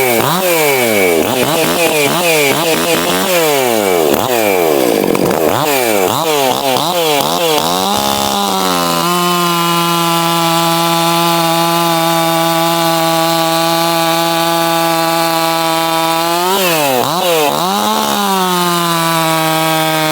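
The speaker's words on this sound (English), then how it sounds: "We got a Stihl MS261, that stock cylinder head," A Stihl MS261 chainsaw with a stock cylinder head, ported muffler and retuned carb runs loud and close, revving up and down in quick bursts, then holding a high, steady scream before blipping again near the end.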